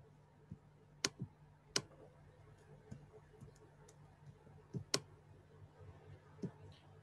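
A computer mouse used for Roblox editing gives a handful of crisp, close clicks at irregular intervals, with faint ticking in between against a quiet room.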